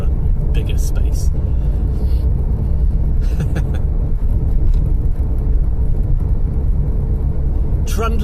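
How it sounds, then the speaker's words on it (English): A pepper red Ford Fiesta MK4 with a 1.3i engine trundles along, its low steady engine rumble and road noise filling the cabin, with someone talking over it. "Trundling along in my Mark IV Fiesta"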